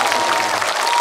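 A brief, loud wash of dense applause from a crowd at a fan event for a singer, steady and unbroken for about a second.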